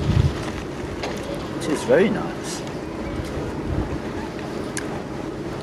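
Wind and water wash around a boat on a river cruise in York, a steady breezy rumble under close, casual conversation between people on board.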